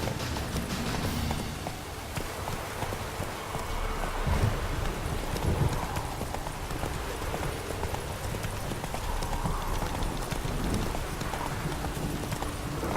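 Hooves clip-clop at a steady galloping rhythm as Roach the horse runs in The Witcher 3: Wild Hunt, close and continuous over a faint windy backdrop.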